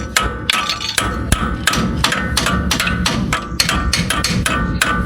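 A hammer repeatedly strikes a brake caliper to free it during roadside work on a GM car on a tailgate road trip from Denton, North Carolina to Myrtle Beach, loud close metallic taps in an irregular rapid series over steady background noise.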